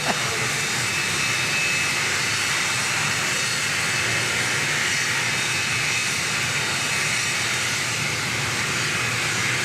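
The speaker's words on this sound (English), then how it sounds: "We got another arrival on final." An aircraft on final approach to land at Dallas Love Field gives off a steady, loud, broadband roar that holds evenly for the whole stretch with no break and no talk.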